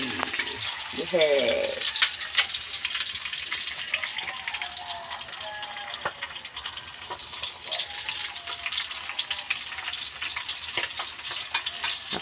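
Bilong-bilong fish frying in a pan for breakfast, a steady hissing sizzle with faint crackles throughout, plus a brief clatter early on and a single short spoken word.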